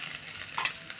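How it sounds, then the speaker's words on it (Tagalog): Ginger, onion and garlic sauté in very hot oil in a brief, close sizzle, with a quick scrape of stirring near the end. "Gisa natin sa kirtik-kirting mantika."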